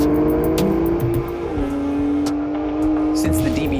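An Aston Martin grand touring car drives with a steady engine hum that rises and settles in pitch, a held revving tone shifting around the midpoint, with a voice talking over the engine throughout.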